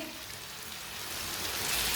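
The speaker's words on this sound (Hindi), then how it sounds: "1 प्याली पानी डाल लेंगे।" Steady broadband splashing and hissing of a cup of water being poured into a pan of cooking potato, pea and carrot curry, growing slightly louder toward the end, with no voices.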